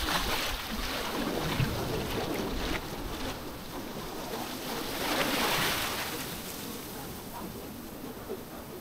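High waves roll in at Tagkawayan Beach, a steady windy surf wash that swells midway, with distant faint voices over the roar.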